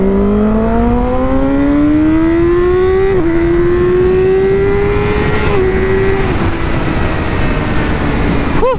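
A Yamaha R6 sport motorcycle with a quickshifter accelerates hard through the gears, its engine pitch rising sharply, then stepping down at each quick shift and climbing again, loud and close over heavy wind noise.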